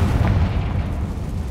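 A fiery blast from the Confringo spell in Hogwarts Legacy booms out as a loud, deep rumble that swells at the start and rolls on steadily, with no voices over it.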